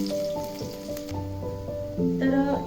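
Garlic and chili fry in a pan with a steady light sizzle, sounding low under a few clinks and short pitched tones.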